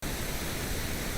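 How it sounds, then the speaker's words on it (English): A steady pink noise reference signal plays as a constant, even broadband hiss for about a second, loud and unchanging, with no other sounds. "let's get pink noise up in here."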